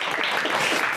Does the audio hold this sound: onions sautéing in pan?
no